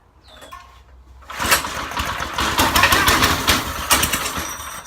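A go-kart's small engine, sprayed with brake parts cleaner, sputters and catches after a quiet start, then runs rough and loud nearby with uneven rapid popping and fluctuating revs.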